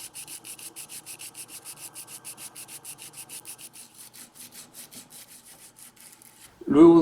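A carving gouge is sharpened by rubbing against sandpaper wrapped on a cylinder, a steady rhythmic back-and-forth rasping of strokes that slows and thins out before a brief louder thump at the end.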